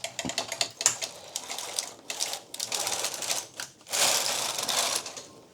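A knitting machine carriage is run across a row of a sweater, giving dense clattering mechanical rattles and sweeps in uneven bursts, close and fairly loud, with no voices.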